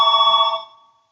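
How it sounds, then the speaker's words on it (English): A telephone rings once with a bright electronic bell tone, loud and close, then fades out quickly into silence. "The phone rings."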